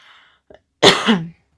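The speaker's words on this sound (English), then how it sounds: "Sorry for the cough." A single short, harsh cough, close and abrupt, after a brief quiet moment.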